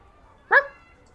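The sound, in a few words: person imitating a dog barking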